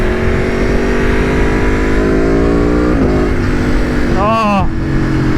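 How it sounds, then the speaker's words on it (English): Aprilia Tuono V4 1100 motorcycle engine with a quick shifter, a loud sustained roar that rises through gears with brief shift breaks, under wind noise and a rider's voice. "Oh, that quick shifter, that sound."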